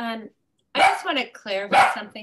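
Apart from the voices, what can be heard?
dog barking in the background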